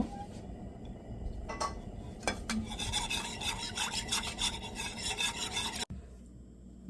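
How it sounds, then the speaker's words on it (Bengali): Milk being reduced over heat, stirred continuously in a pan with a steady rasping scrape of the spoon against the base, close and rhythmic, then stopping abruptly near the end; no talking. "এভাবে অনাবরত নেড়ে আমি দুধটা হাফ কাপের মতো কমিয়ে নেব"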